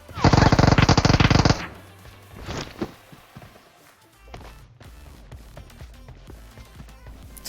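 Rapid Uzi submachine gun fire in a battle royale game on a military base bridge, a loud burst of about one and a half seconds near the start, followed by scattered gunshots and footsteps.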